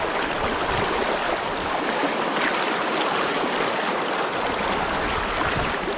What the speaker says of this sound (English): the river is running quite fast